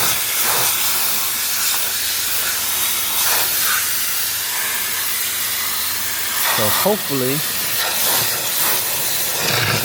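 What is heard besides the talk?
water spray hissing while cleaning pond sump algae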